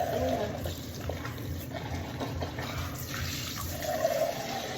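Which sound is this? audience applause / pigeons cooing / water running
water running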